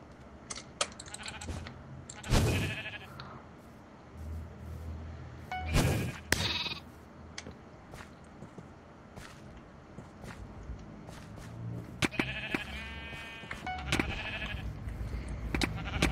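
Sheep in a video game bleat several times over a busy stretch of game sounds and footsteps, with louder nearby bleats separated by quieter gaps.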